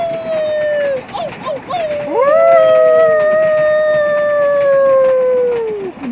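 People imitate wolves with their voices, howling at a nearly full moon in a loud overlapping chorus of long rising and falling wails, some voices breaking into short yips before one sustained howl dominates.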